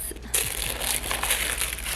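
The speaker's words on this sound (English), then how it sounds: "I'm taking that wrap off." Plastic wrap being pulled off a tote bag gives a dense, close crinkling and crushing rustle that runs without pause for about two seconds, with no talk over it.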